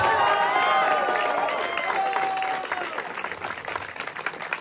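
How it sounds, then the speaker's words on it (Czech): Audience applause breaks out at an event in Zubří, loud and dense at first, then tapering off to scattered clapping. "Potlesk."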